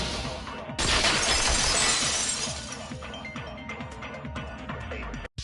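A vase shatters in a visual novel game sound effect: one loud crash of breaking ceramic, with scattered tinkling fragments trailing off over several seconds.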